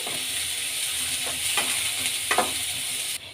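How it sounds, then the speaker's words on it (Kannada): Onions frying in oil with curry leaves, a steady moderate sizzle up close, broken by a few stirring scrapes and a brief clatter before cutting off near the end. "ಈಗ ಎಣ್ಣೆಯಲ್ಲಿ ಚೆನ್ನಾಗಿ ಈರುಳ್ಳಿ ಫ್ರೈ ಆಗಲಿ"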